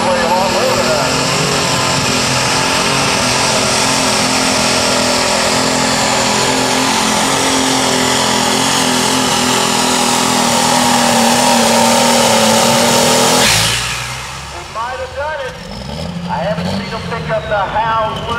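Light limited super stock pulling tractor at a tractor pull in Danville, Kentucky, roaring at full sustained power for about thirteen seconds before the engine cuts off abruptly, leaving crowd noise and an announcer's voice.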